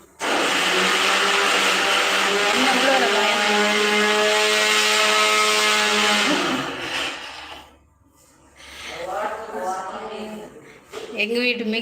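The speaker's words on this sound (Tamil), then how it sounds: "மிக்சி எவ்வளோ சவுண்டு பாருங்கள்" An electric mixer grinder whirs loudly at a high, steady pitch for about six seconds, then winds down and stops, after which a person starts talking nearby.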